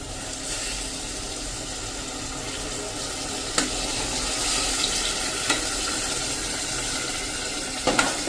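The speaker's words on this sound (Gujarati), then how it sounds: "જો આપણા મગ ડૂબ્યા ને એટલું જ મેં પાણી નાખ્યું છે" Water poured into a pot of soaked moong beans, a steady, fairly loud rushing splash lasting throughout with a few brief clinks near the middle and end.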